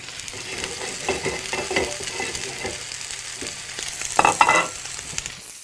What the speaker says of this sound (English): So what we're going to do is seal the steaks, caramelize them, seal them on the plate.